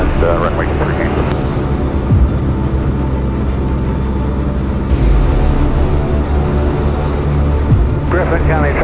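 Cessna 162 Skycatcher light aircraft engine drones steadily and loudly in flight near Gainesville, Georgia, a constant low propeller hum beneath radio voices calling traffic.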